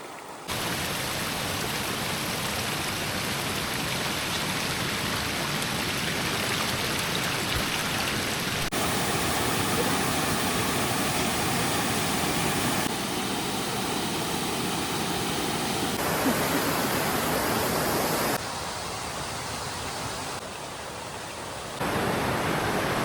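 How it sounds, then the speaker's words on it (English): Waterfall in Panthertown Valley heard from the top of the falls on a rainy day, a steady loud broadband rush of falling water that holds alone throughout with shifting tone. "Say we're on top of the waterfall."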